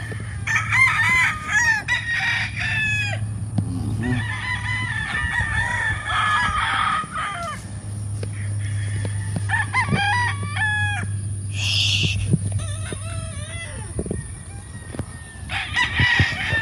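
A rooster crows several times amid steady clucking from a flock of chickens on a large farm in Lipa City, Batangas, with a low continuous hum running underneath.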